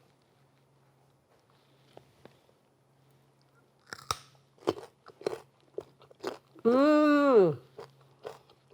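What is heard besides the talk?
crunching a raw carrot dipped in everything bagel dip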